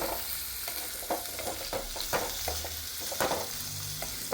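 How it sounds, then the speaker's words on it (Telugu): A spoon scrapes and stirs food frying in ghee inside an old, worn kadai, producing rhythmic, clattering scrapes over a steady sizzle, up close and with no talking. "ఈ బాండి కూడా మార్చాలి మనం, సౌండ్ చేస్తుంది."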